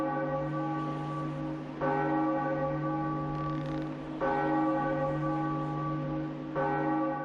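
A large tower bell rings in The Wind Waker on top of the Tower of the Gods. Three resonant strikes sound at even intervals, each ringing on with a long, humming decay.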